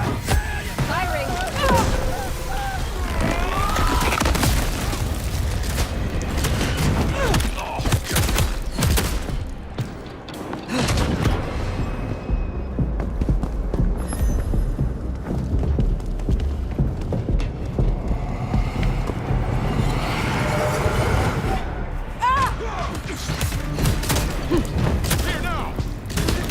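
Dense, continuous video-game combat from Bloodline 2 in Seattle, with layered gunfire, thuds and booms running nearly nonstop at high level, briefly dipping midway before resuming, with shouted voices mixed in.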